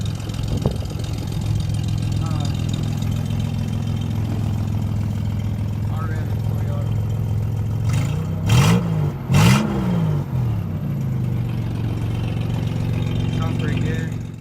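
A car engine idles steadily and revs up in two short bursts while its muffler is partway removed, with people talking over the running motor.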